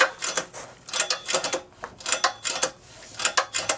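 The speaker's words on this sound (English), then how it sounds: "And then you're going to want to spin the motor over" A 6.5 hp Honda clone small engine is spun over by hand, giving close, rapid clicking and ticking in short uneven bursts from its moving internal parts, with no talk.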